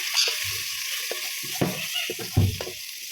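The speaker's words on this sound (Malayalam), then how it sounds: "അതിലേക്ക് നമ്മൾ കുറച്ച് ഗരം മസാല ആഡ് ചെയ്ത് കൊടുക്കണേ എന്നിട്ട് നന്നായി ഇളക്കി കൊടുക്കണം" Sautéed onions with garam masala stirred in a pan: a soft background sizzle with several close, dull scraping strokes of a spoon, spaced unevenly.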